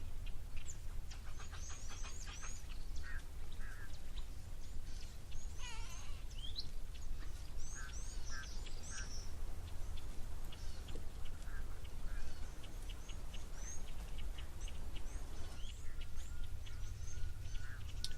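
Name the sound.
Egyptian geese and red-billed teals calling at waterhole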